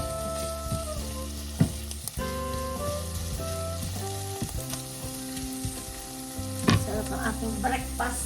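Sausages frying in a pan for breakfast, a steady sizzle running throughout with a few sharper spits and clinks of stirring near the start and toward the end, close and moderately loud with no talking.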